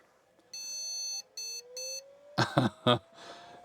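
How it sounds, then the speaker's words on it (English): Error beeps from a computer after a large graphics card is plugged in, a few short, loud electronic tones in sequence, followed by a burst of louder clattering noise. "I'm telling you that was like a VGA beep."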